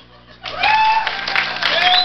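Studio audience applause on a Spanish-language TV show, starting after a brief quiet lead-in and holding steady as a loud wash of clapping, with a bright whistling tone running through it.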